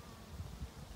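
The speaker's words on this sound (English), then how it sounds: "This hive is packed with bees." Honeybees buzzing inside a packed double-deep hive during a frame inspection, a low, steady, close-up drone with slight swells in loudness and no talk.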